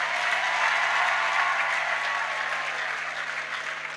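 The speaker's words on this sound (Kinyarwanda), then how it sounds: "Mbega iyo mana ntitwayiha amashyi menshi cyane." Church congregation applauding for a pastor after a thanksgiving for newborn twins, a dense, steady clapping that fills the space and fades slightly toward the end, with no voices over it.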